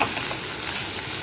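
Okra sizzling as it fries in oil in a nonstick pan, a steady bright crackle and hiss throughout with light stirring, close and fairly loud, no voices.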